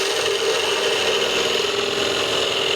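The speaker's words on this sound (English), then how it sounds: "dropping the handle as you pull the gouge towards yourself" Steady, continuous scraping and rubbing of a wood gouge cutting cross grain while carving a box, loud and close with an even texture and no pauses.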